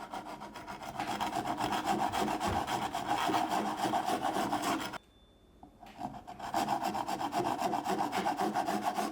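A Japanese azehiki saw cuts a stop groove into wood with rapid, steady rasping strokes, close and continuous, pausing briefly midway before resuming the same rhythmic back-and-forth sawing.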